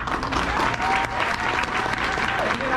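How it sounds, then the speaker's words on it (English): Loud, dense applause from an awards ceremony audience, close and continuous, with some crowd voices and whoops mingled in. "give the Genesee Health Plan a round of applause"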